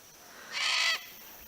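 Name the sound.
cockatoo calling in the background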